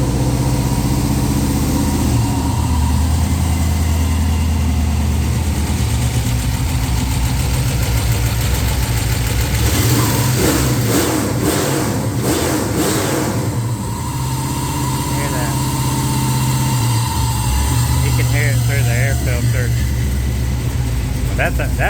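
A 6.0L LS V8 swapped into a 1969 Chevrolet C-10 cranks and runs near the mic, a steady rough idle with a brief rev burst in the middle before settling, while someone talks over it.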